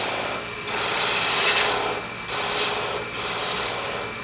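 A skew chisel rolls beads on a wooden spindle turning on a wood lathe, making three rasping, scraping cuts, each about a second long and separated by short pauses, close and fairly quiet.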